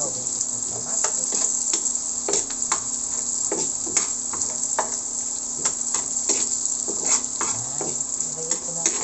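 Onions sizzle steadily in a hot pan for ground-meat cooking, with a constant frying hiss and repeated scraping clicks from stirring, close and fairly loud, no voices.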